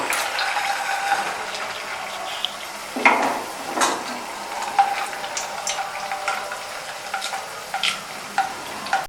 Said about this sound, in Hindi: इसमें हमने वो जो बॉल्स बनाई हैं वो इसमें शामिल करके इसको फ्राई करना है